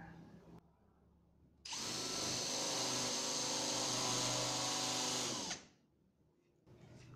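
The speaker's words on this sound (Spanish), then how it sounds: "puedes utilizar una broca avellanadora como esta" A power drill runs a countersink bit into wood, whirring steadily at high speed for about four seconds after a quiet start, then spinning down and stopping, heard up close with no talk.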